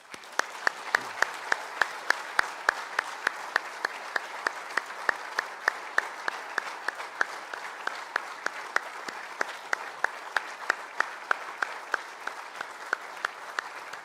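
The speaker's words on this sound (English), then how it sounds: "I'd like to invite your guests to applaud you for that." Guests applauding graduates at a University of Liverpool graduation ceremony, steady hall-filling clapping with sharp individual claps standing out, continuing evenly for the whole stretch.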